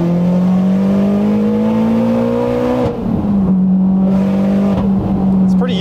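A 700-horsepower turbocharged Mitsubishi Evo engine pulls loud and steady, its drone rising in pitch as it accelerates, then drops back briefly before climbing again, with some talk faintly underneath.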